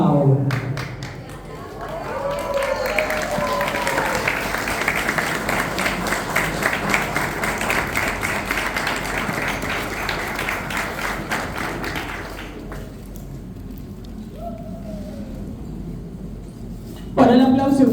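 Applause from an audience at an arts and culture award ceremony at the Palacio Barolo, a steady patter of clapping for about ten seconds that fades, with voices talking near the start and end.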